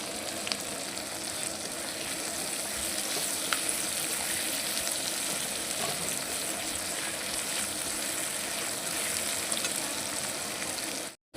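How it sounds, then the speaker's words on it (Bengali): Onions fry in a pan over a gas flame, giving a continuous bright sizzle that holds steady and close throughout, with no one talking. "পেঁয়াজটি আমার ভাজা হয়ে গেছে,"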